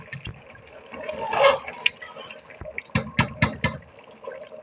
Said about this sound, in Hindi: तो अब हम इसमें पानी शामिल करेंगे।